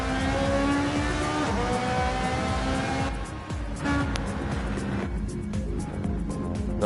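Porsche GR3 race car engine in a racing video game, a loud sustained roar with rising and falling pitch as it accelerates and shifts, other cars audible in the mix.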